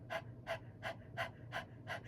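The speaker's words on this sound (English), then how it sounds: "it's kind of like panting like a dog" Six short, even panting breaths, like a dog's, are pushed out through the mouth during solar plexus breathwork, evenly spaced, soft and close, with no talking.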